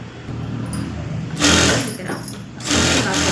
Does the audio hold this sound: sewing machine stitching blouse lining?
yes